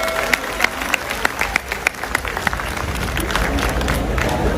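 A crowd at an outdoor rally in Nagpur claps steadily, with sharp individual claps standing out over a continuous bed of applause and crowd noise.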